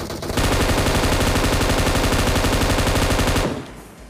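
A sustained spray of automatic gunfire in PUBG rattles out as a rapid, even stream of loud, close shots for about three seconds before cutting off abruptly.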